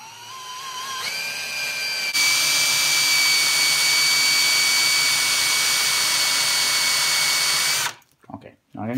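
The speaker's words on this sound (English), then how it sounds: "So we will start drilling." A power drill bores a hole in a storm door handle held in a vise, ready for a tapped set screw. It whines steadily and loudly for several seconds, then stops abruptly, and brief clatters follow.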